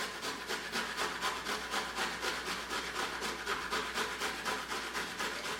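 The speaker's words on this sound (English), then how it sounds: "So grate your ginger." Fresh ginger is rubbed against a grater in quick, even rasping strokes, a steady rhythmic scraping that is fairly faint and close, with no voices.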